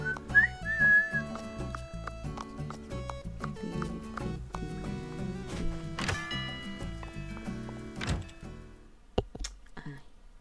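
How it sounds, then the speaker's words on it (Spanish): A person whistles briefly over the busy background music and effects of Animal Crossing: New Horizons, with scattered thunks and clicks from the game. "Perdón por silbar."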